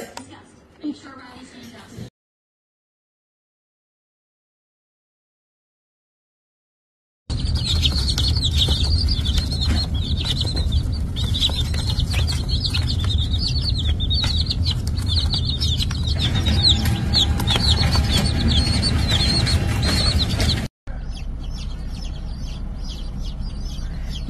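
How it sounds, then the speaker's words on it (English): A broody backyard hen with newly hatched chicks clucks and flaps, giving a busy, close, continuous run of fowl sounds after a brief quiet gap, with a short break before a quieter tail. "We have a broody hen and she just hatched some baby chicks by sitting on them."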